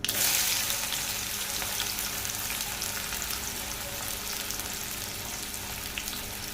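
Steady crackling sizzle of mustard and cumin seeds tempering in hot oil, a dense continuous spatter close by, slightly louder at the start and then even.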